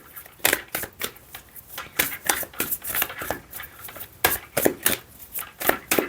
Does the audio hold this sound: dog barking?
no